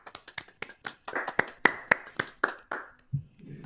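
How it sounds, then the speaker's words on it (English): A single person clapping at an online masterclass after a music performance, a quick run of crisp hand claps at a steady pace, close and fairly loud, ending abruptly. "Aaron, a big virtual round of applause"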